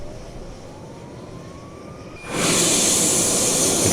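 A Milviz T-38 Talon jet engine starts up in Microsoft Flight Simulator: a faint rising whine under a low background hum, then a sudden loud roar that holds steady and fills the rest of the clip.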